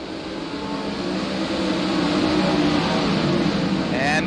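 410 sprint cars race off a turn on a dirt track, engines roaring in a steady, loud, continuous drone, with a faint voice in the background.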